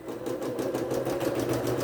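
A home sewing machine stitches a small diagonal line across a quilt patch, its steady mechanical whirr running continuously and evenly at close range for the whole short stretch, with no talking.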